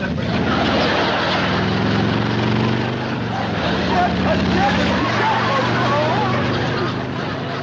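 A motorcycle ridden inside a house in a sitcom scene: a loud, steady engine drone with shifting pitch that fills the whole scene, with voices and commotion underneath.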